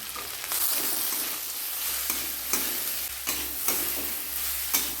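Peanuts fry in oil with potato for a samosa filling of cauliflower, carrot, beans and coconut, a steady close sizzle broken by repeated scraping stirs of a spatula in the pan, with no voices.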